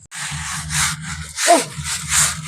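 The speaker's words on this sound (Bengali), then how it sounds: "কত ঘষছি বাবা তাও যাচ্ছে না" Bleaching powder scrubbed hard against a stained surface, loud close rubbing strokes in several repeated rough bursts with a low steady hum underneath and no talking.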